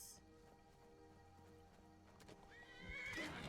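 A horse in an online Xbox video game, with faint clip-clop hooves followed by a loud, rising neigh near the end, over low background game ambience.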